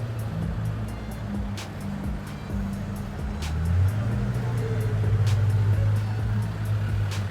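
A Pagani Zonda F supercar plays back with a low engine rumble that swells and grows louder toward the end, under a steady background roar.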